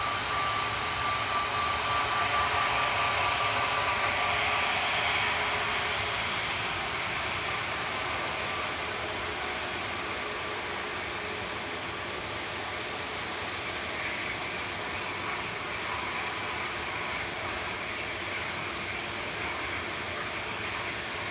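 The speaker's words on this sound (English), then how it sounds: "Going next is Jet2's Sun F, another one of their A321 Neos" A Jet2 Airbus A321neo airliner departing Manchester Airport, a broad roaring jet engine rumble that is loudest at the start and then fades to a sustained distant roar.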